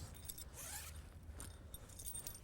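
A zip on a Tracker carp sack, a fishing sack with clips meant for use in water, is pulled in a few short raspy strokes close by, with no talk.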